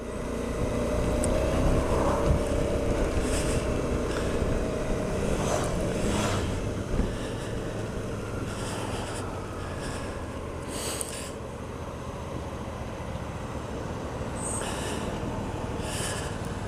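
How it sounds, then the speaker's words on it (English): 2021 Suzuki V-Strom 650 motorcycle engine running on the road, a steady low rumble heard from the rider's position under wind noise, with no voices. "it initially sounds really nice. Typical smooth V-Strom engine in it."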